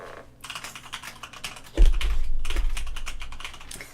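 Rapid typing clatters on a computer keyboard, with dense clicking keystrokes that carry on steadily and grow louder and closer partway through.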